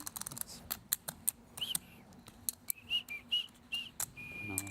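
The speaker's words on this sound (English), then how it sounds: "This whistle. When I was whistling" Someone whistles a few short, high notes at a high-stakes poker tournament, with sharp clicking taps around the notes throughout.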